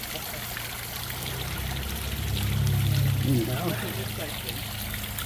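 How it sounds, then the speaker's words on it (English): Water trickles and pours steadily in a park fountain in Lithia Park, a continuous close wash of flowing water with a person speaking briefly over it. "Okay, so here's the fountain"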